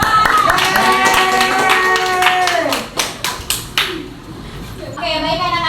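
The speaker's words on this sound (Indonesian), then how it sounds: "Oke, tepuk tangan." Children in a classroom clap their hands together in a rhythmic pattern of sharp, close claps, first as a steady run and then as a few separate slaps, while a melodic sung or spoken tone continues underneath.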